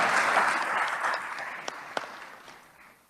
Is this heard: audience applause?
yes